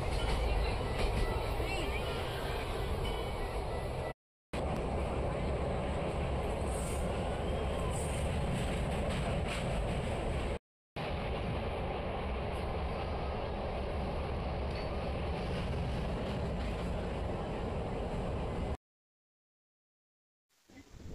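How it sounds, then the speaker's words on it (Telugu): Seshadri Express train in motion, a dense continuous rumble and rattle heard from inside the carriage, steady and loud with two short breaks and a silent gap near the end. "మన ట్రైన్ అయితే వచ్చేసింది,"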